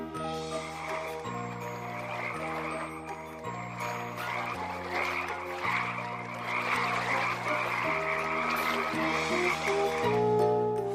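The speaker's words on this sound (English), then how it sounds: "400 frogs' heads poked out of the water in unison. They gadunked loudly." A dense chorus of many frogs croaking beside a pond, steady pulsing calls overlapping loudly and continuously with no voices.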